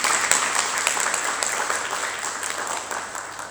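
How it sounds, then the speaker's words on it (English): Applause for Veronica from an audience at a wildlife conservation strategic plan launch: a short round of clapping, fairly close and full at first, gradually thinning and fading out. "Please, a round of applause for Veronica."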